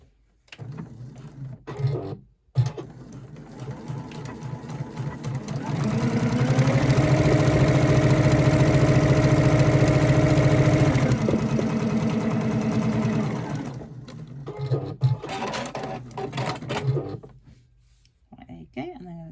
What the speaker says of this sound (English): I'm just going to sew that with a just under a centimetre seam allowance